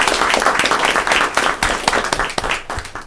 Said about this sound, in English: Applause for these three folks first.